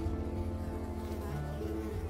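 Mosquitoes buzz in the video game Unravel, a continuous low insect drone that stays steady and close for about two seconds.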